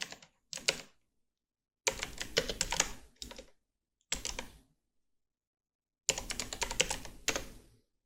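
Bursts of fast typing on a computer keyboard, several short runs of close, crisp key clicks separated by silent gaps.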